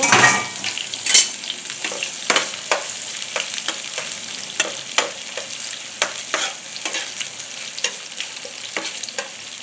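Onions sizzling and frying in oil in a wok, with a steady crackle broken by repeated sharp scraping clicks of a spatula stirring, loud and close with no voices.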